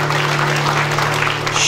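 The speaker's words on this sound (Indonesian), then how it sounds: "Beri tepuk tangan yang meriah buat Tuhan." Congregation clapping in a church during a sermon, a dense, steady wash of applause close by with no gaps through the short stretch.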